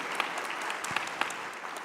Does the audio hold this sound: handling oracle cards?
no